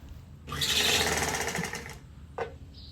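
Sewing machine stitching a puff sleeve onto a blouse along the rounded armhole seam: one loud, close run of rapid stitching lasting about a second and a half, then a brief mechanical click, with no talk.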